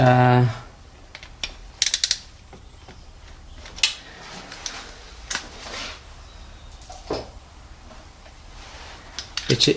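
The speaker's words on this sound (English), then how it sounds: "Now we can undo the bolt that's sitting in between the 2 injectors" A ratchet loosens an 11 mm bolt between two fuel injectors on a 2008 BMW E91, giving close, sharp metallic clicks in short irregular bursts with quiet gaps.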